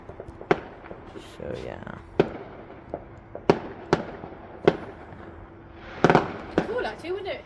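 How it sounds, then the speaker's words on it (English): Distant fireworks on Bonfire Night pop and crackle in scattered bursts, some sharp single bangs and a denser cluster near the end, with a person speaking briefly nearby. "there's fireworks going off in the distance"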